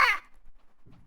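A voice imitates a crow with a single loud, harsh caw at the start, trailing off quickly into near silence with a faint low murmur afterward.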